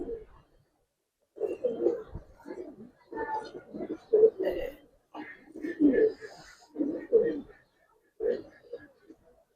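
Large pigeons cooing close by, a series of low throaty bursts in an irregular rhythm, heard on their own against quiet.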